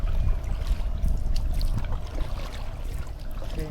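A paddleboard glides across Alouette Lake, its paddle splashing and water lapping close by in a soft, uneven rhythm under a steady wash of wind, with no voices.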